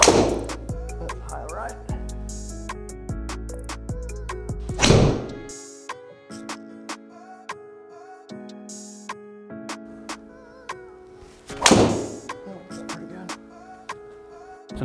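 A Honma TR20 460cc golf driver striking the ball gives two or three sharp, close impacts spaced several seconds apart, set against background music.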